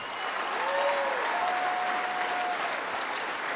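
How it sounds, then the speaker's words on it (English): Hall of Fame induction crowd breaks into applause for Bill Parcells, a full, sustained round of clapping with a faint whistle or tone sliding through early on. "Give him a round of applause."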